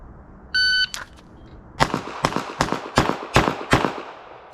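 A shot timer beeps once, then a Staccato CS pistol with a DSC compensated barrel fires six sharp, close shots in quick succession at an outdoor range, with no talking.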